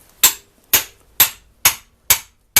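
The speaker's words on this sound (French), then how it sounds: "je vais l'écarter un peu le moyeu avec un burin" A chisel struck with a hammer to spread the wheel hub on a 2000 Ford Ka, six sharp metallic blows at an even, unhurried pace, each ringing briefly before the next, loud and close.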